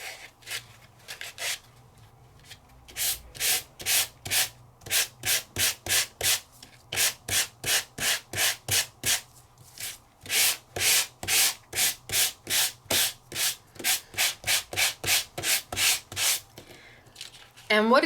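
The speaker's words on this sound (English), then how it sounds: "Here I've started to sand." Rapid back-and-forth sanding strokes rasp against a stenciled, embossed surface, close and rhythmic, pausing briefly a few times before continuing.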